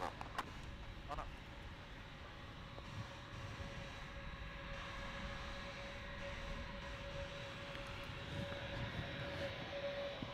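Boeing 717 airliner departing Gold Coast Airport, a faint distant steady jet rumble with a thin whine, heard from afar with occasional speech over it.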